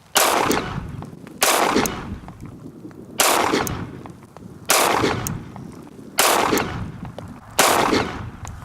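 A Ruger LCP 2 pistol fires at frozen chunks of ice outdoors, with six loud, sharp shots spaced roughly every one to one and a half seconds, each followed by a short ringing decay.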